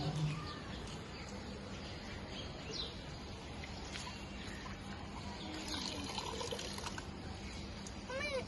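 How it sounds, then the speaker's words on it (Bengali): Water is poured onto flowers in a garden, a faint, quiet trickle running steadily while birds call softly in the background. "এখন আমরা ফুলের ভিতর পানি দেবো"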